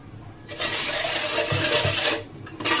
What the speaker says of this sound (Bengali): এই পর্যায়ে আমি রসটাকে আবার চুলার মধ্যে ঢেলে দিলাম, পাতিল বসিয়ে।